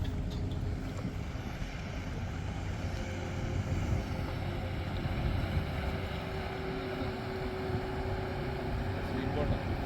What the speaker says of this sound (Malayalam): ഇതൊരു സ്പീഡ് ബോട്ട് ഇവിടുന്ന് ചീറിപ്പാഞ്ഞ് വരുന്നുണ്ട്.